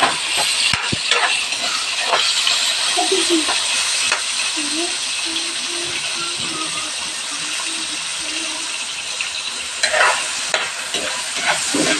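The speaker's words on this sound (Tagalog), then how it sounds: "Nahalo-halo po ni Mama." Sautéed mixed vegetables are stirred in a hot pan, with repeated scraping strokes over a constant sizzling hiss, close and loud, and a few faint sounds in the background.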